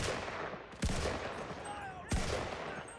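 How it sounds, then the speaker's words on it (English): Gunfire in the Enlisted video game during a Normandy attack on Le Bre, with two sharp loud shots standing out over a constant dense battle background of distant firing. "I'm going to get on this MG and just kind of shoot at anything that moves"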